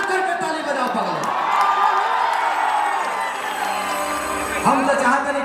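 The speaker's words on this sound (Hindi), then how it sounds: "एक बार जोरदार हमारे डीएम साहब के लिए और जगदम्बिका पाल जी के लिए जोरदार हल्ला करके ताली बजाओ पागल" A large open-air crowd at a stage show roars and cheers continuously, a dense wash of shouting and whoops with a voice calling over it.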